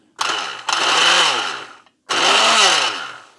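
A Bamix Deluxe hand blender whirs loudly at high speed in two bursts, a short pause between them, with a shifting whine as the motor loads.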